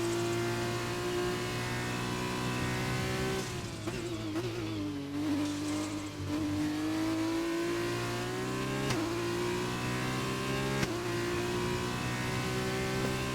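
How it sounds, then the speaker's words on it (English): F2 race car engine in a racing video game, a steady high-pitched whine climbing through the revs with sharp upshift drops, loud and continuous with no talk. "I really like the sound when the engine makes when you shift up here in these cars."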